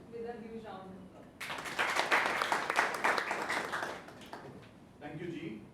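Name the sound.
audience applause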